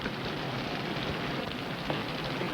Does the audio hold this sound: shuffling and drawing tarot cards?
no